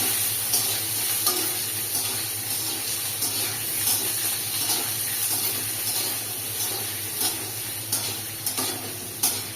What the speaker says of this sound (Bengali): মুগ ডালটাকে ভেজে নেব হালকা। এবার এই আলুটাও আমি একসাথে ভেজে নেব।